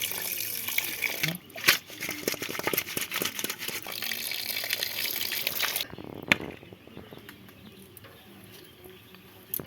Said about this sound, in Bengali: এবার আমি পরিষ্কার করে মাছগুলো ধুয়ে নেব।